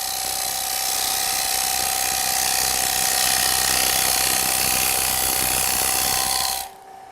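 A Robert Sorby TurnMaster scraping wood on a lathe in traditional scraping mode, a steady continuous whirring grind with a constant motor tone that runs loud and even throughout, then cuts off abruptly near the end.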